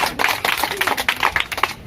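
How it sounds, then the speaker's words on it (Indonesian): Children clap their hands in a busy, uneven patter during an activity with a police visitor, many close claps overlapping densely and continuously. "Oke, tepuk tangan"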